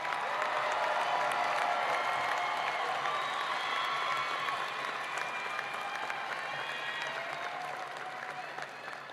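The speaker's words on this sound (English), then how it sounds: "Let's give them a round of applause." Sustained crowd applause for undergraduate graduates at an LSUS spring commencement ceremony, broad even clapping with some cheering, filling a large hall and tapering slightly toward the end.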